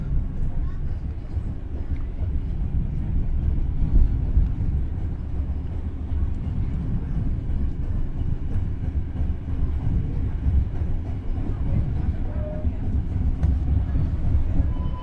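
Probowangi passenger train running on rails, a steady loud low rumble of wheels and carriage that continues without a break, heard from inside the moving train.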